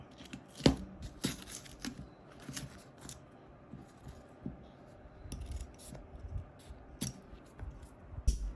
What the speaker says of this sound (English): grab your handy dandy scissors and trim off the left and right of your zipper